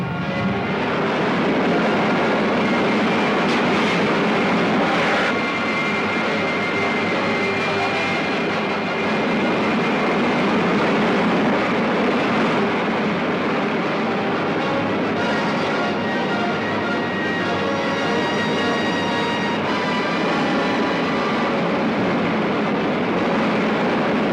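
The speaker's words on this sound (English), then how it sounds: "Fire main jet." A 1950s serial sound effect of a rocket ship's main jet firing: a loud, steady roaring rush that holds without a break throughout, with faint whining tones riding over the roar.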